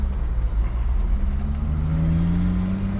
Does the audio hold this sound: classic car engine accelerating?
yes